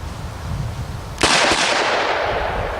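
A single loud shot from a Smith & Wesson 6-inch L-frame revolver with an underlug barrel, a sharp crack followed by a long fading outdoor echo, with no voices.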